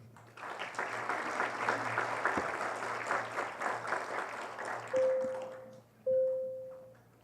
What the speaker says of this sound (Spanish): Aquí recibimos con un fuerte aplauso.